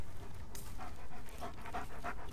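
A dog pants steadily at close range, quick breathy huffs repeating through the short stretch without barking, during a training session with a dog that loves playing ball.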